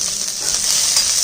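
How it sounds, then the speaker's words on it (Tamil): Steady, close hiss of small onions sautéing in hot oil, a bright crackling wash with no voices. "இதை எல்லாத்தையும் வதக்கிக்கிடுவோம்."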